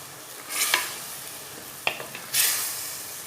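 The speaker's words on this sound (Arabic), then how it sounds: "نزيد نقليهم شويه." Food frying in a pan while being stirred, soft steady sizzle with a few sharper scraping stirs and brief louder bursts, close and alone with no talk.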